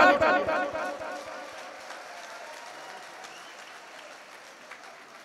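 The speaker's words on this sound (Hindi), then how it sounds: "जोरदार ताली।" A crowd at a poetry recitation bursts into loud applause that starts strong and close, then gradually thins and fades to scattered clapping.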